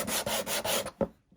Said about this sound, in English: Just using a perma-grit sanding block.